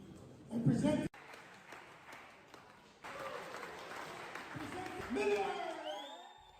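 A crowd at a wrestling final in Palau cheers and applauds in bursts, with a loud swell early, a sudden cut, then sustained clapping and whoops rising again toward the end.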